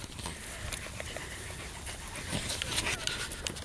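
A dog pants steadily on a walk at a park, the quick breaths close and continuous over outdoor background noise, with no talk.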